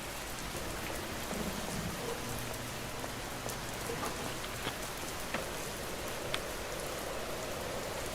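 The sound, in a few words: rain falling in a video game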